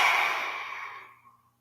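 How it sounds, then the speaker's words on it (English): A single forceful lion's roar breath in yoga pranayama: one loud, breathy open-mouthed exhale, close to the listener, that fades out over about a second and a half. "Lion's roar, exhale."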